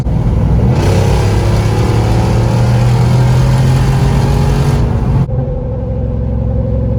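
Jeep Wrangler Rubicon 392 JL on big tires accelerating hard onto an interstate: a loud, close engine roar climbs steadily in pitch for about five seconds, then drops back to a steadier drone with road noise.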